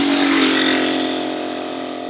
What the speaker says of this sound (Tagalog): Nan si Kuya Sidecar, tignan natin kakayanin ho ng motor niya